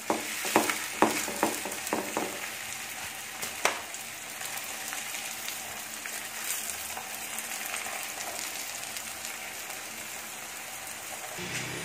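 A radish paratha fries crisp in a pan, opening with several sharp spatula taps and crackles, then settling into a quiet, even sizzle.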